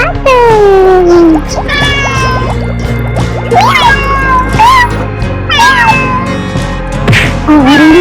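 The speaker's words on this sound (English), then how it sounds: "Orange watermelons, orange cat." Cartoon cat meows over a bright, busy music track in an animal cartoon, with several pitched cries standing out against continuous singing-like melody throughout.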